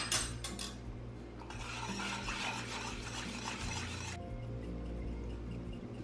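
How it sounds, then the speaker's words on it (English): A spoon stirs chicken broth in a pan, giving a steady scraping, swirling clatter against the metal with brief clinks, close and moderately loud, continuing without pause. "Just give it a good stir"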